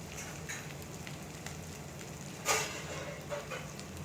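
Large onions, chopped small, sizzle steadily in hot oil for a potato and pea masala. The soft, even frying hiss is fairly faint, with a brief louder crackle partway through.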